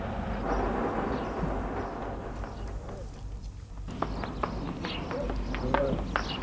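A horse's hooves clop along a road in a rural dairy-farming parish, steady walking steps that grow crisper in the second half over a constant outdoor rumble.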